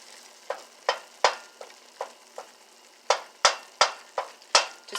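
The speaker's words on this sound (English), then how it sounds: "Just keep stirring until it's all really smooth" A spoon stirs a cream cheese mixture in a cast iron pot, making a series of close, crisp scraping strokes with short gaps between them. No one speaks.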